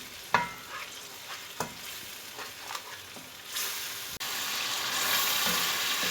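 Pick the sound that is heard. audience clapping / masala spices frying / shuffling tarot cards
masala spices frying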